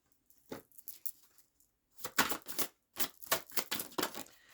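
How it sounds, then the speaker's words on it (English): Close, crisp bursts of tarot cards being shuffled and riffled, irregular at first, then a quick flurry of rapid slaps and flicks, with no talking. "when I'm shuffling these cards"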